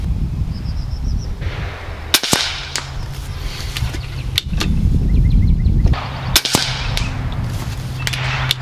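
Three sharp, loud cracks of a Nova Liberty shotgun firing AVS hollow-point slugs at a 100-yard target, spaced a couple of seconds apart, with steady gusty wind rushing between shots.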